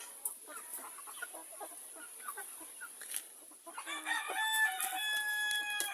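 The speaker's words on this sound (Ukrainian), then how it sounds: "Ось знову півник білохвостий цей шопаливі, міні-місні." A white-tailed rooster crows loudly near the end, preceded by scattered clucks and chirps from poultry in a quiet yard.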